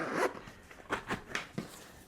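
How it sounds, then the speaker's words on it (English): A zipper is pulled in short repeated strokes around a compact camera carrying case for a DJI Osmo Pocket 3, close and crisp, about five quick rasping pulls with brief pauses between. "Zip that back up."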